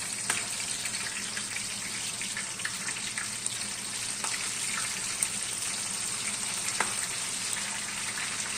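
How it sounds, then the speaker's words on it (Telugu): Marinated, color-coated chicken dropped into hot oil gives a loud, steady frying hiss with crackling pops throughout, close by and without talk. "నేను ముందుగా కలర్ రాసి పెట్టుకున్న చికెన్ అందులో వేసేసుకుంటాను."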